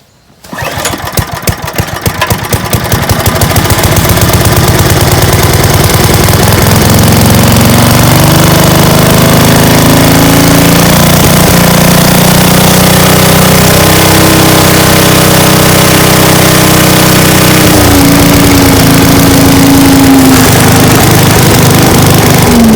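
A Parker-35 vacuum's small petrol engine cranks, catches and roars into a loud, rough, rapid-firing run that stays close and steady, with the pitch wavering as it settles.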